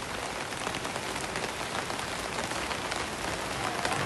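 Steady rain pours down during an evening walk through Phuket Boat Lagoon in Thailand's rainy season, a dense, even hiss of drops on surfaces that holds constant throughout with no voices.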